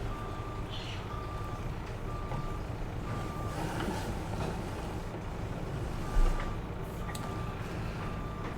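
Pallet loader reversing in Farming Simulator 22: evenly spaced high electronic reversing beeps repeat steadily over a low engine drone and outdoor rumble, with one brief soft thud near the end.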